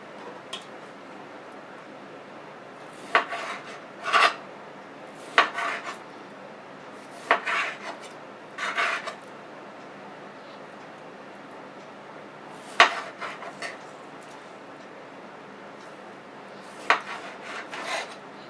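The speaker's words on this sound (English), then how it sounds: "you're cutting it in, let me show you, thin strips like that, see?" A knife slices meat into thin strips for a chicken stir fry, with short scraping cuts against a board coming in irregular bursts over a quiet room.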